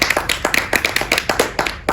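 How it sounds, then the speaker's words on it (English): Applause from a small audience at a senior informatics exhibition of mastery: a few people clapping in a steady, moderately loud patter for about two seconds, with no talking. "we'll give you a round of applause."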